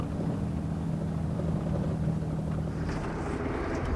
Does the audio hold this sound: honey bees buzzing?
no